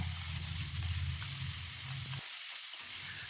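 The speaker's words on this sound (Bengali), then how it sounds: "এবারে একটু ভালো করে কষিয়ে নিচ্ছি।" Spice paste fries in oil for a Pabda fish curry with red chilli powder, crushed ginger and salt. A steady close sizzle carries a faint stirring sound, and a low hum drops out near the end.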